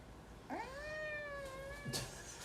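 A cat gives a single clear, drawn-out meow up close, rising then holding steady before a short rustle.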